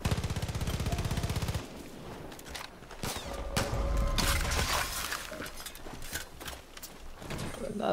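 Rapid automatic gunfire from target shooting in the video game Far Cry New Dawn rattles for the first second and a half, followed by sharp single shots, clanks and busy game effects.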